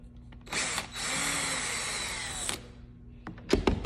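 A power drill whirs for about two seconds while driving a lid screw back in after red Loctite is applied to its tip, loud and close, followed by a few short clicks and handling knocks.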